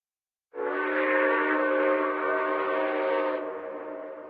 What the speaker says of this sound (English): And back on the train we are.